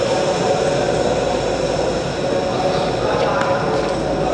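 Loud, steady rumble and roar of a train at a station, a dense continuous noise filling the whole stretch with no clear breaks.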